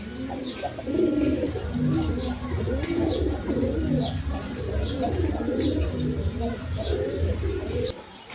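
A pair of shearing pigeons coos in low, throaty rolling calls that continue without a break, close and steady, with faint higher chirps above.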